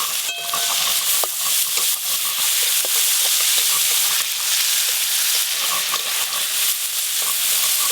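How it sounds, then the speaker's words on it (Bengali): Prawns fry in hot oil with a steady, dense sizzle and crackle throughout, with faint stirring clatter and a few sharp pops near the start, no voices. "এবার ওই চিংড়ি মাছগুলোও ভেজে নেব।"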